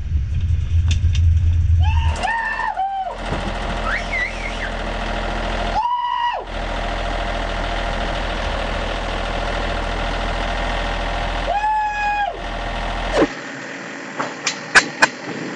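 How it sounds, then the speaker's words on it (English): Engine of a Vendée Globe racing sailboat running steadily after being repaired at sea, a loud continuous drone with a few rising and falling whine tones layered over it, ending with some sharp clicks. "We can safely say now that Techno First Phase Ocean has an engine."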